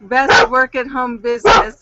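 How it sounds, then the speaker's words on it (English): A house dog barks a few sharp, close yelps during an online call, the barks overlapping a person speaking. "that's my dog barking"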